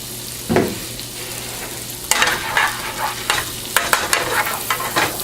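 Butter sizzling in a pan for shrimp scampi, a steady crackling hiss with a low hum underneath, broken by several sharper scraping bursts of stirring in the second half.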